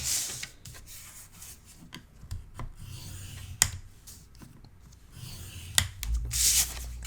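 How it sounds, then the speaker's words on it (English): Paper is scored along one long side in a craft setting, giving soft scraping and rubbing strokes broken by a few sharp clicks and taps, close and fairly quiet with no talk. "And we're just going to score one long side."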